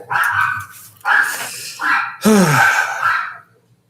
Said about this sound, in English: Dogs. This is why I don't have them.